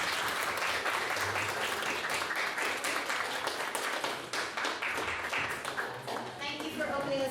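Sustained applause from a debate audience after a speech, dense clapping that holds steady for several seconds before starting to thin out near the end.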